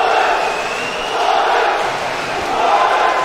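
A hall crowd chants steadily for Samet at the Cafer sports hall during a bout between Abdulsamet Salih and Oleksandr Babych; the loud, sustained roar swells and dips in waves throughout.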